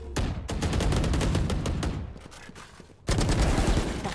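Rapid gunfire in Valorant, loud and close, with bursts of closely spaced shots, a brief lull near three seconds, then another dense volley.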